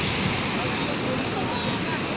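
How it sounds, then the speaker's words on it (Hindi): Flood water rushes through a breached embankment in Madhubani, Bihar, a loud, steady, broadband roar of fast-moving water with no pauses. "एते पानी जा रहले हो"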